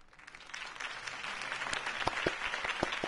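A crowd claps after Harvey Dent's campaign speech in the video game Batman: The Telltale Series, a moderate, scattered round of applause with individual claps standing out, rising a little toward the end.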